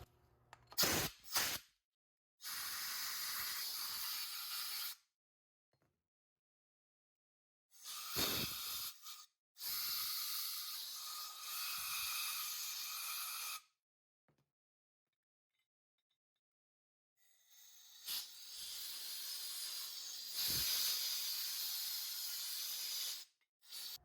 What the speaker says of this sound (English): just take some compressed air and just blow all these orifices out